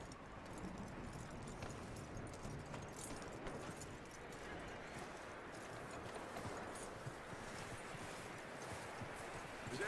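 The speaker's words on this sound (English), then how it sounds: "That looks like a decent horse." Horse hooves clip-clop steadily at a walking pace in Red Dead Redemption 2, a continuous, even rhythm that runs through the whole stretch with no one speaking.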